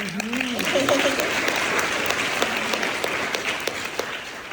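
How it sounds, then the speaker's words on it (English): Audience applause for rising stars at a business event, a dense, steady wash of clapping from a large crowd that holds throughout, with a brief voice fading at the start. "we all have to give them one more hand of applause."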